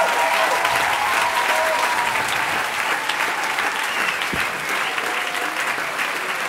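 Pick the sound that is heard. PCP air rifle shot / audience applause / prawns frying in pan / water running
audience applause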